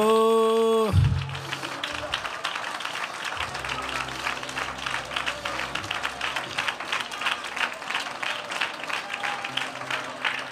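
A church congregation claps during a sermon, a steady patter of applause running for several seconds after a brief sung note, with a voice talking over it at moments.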